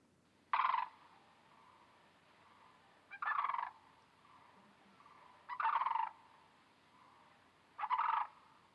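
A sandhill crane gives four evenly spaced, rolling calls, each about half a second long, ringing out clearly over a quiet background.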